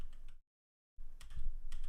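Rapid clicking keystrokes on a wireless computer keyboard, close and moderately loud, broken by a brief dropout of total silence before the typing resumes.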